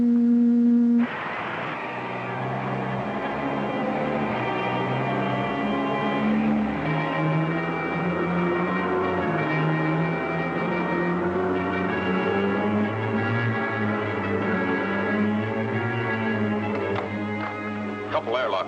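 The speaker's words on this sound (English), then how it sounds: "Increase tractor beam." A sci-fi tractor beam effect from a 1954 space ranger serial, a dense electronic hum with layered sustained tones that starts abruptly and drones continuously, with wavering pitches, and voices speaking over it.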